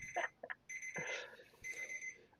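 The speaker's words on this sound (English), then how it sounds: "I've got an alarm going off right now" Repeating electronic alarm beeps sound in short tonal bursts, fairly quiet and steady, with a few brief gaps between pulses and no talking over them.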